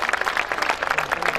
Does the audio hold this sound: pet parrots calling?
no